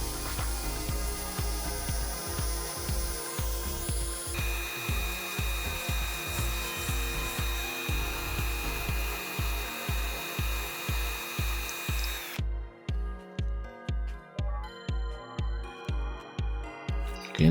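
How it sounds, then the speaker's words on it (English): A power tool, likely a drill with a wire brush or abrasive, grinds rust off the axle hub of a Matchbox K5 racing car transporter toy in steady rapid pulses, loud and close, with a tone change partway through. "I'm taking the rust off first."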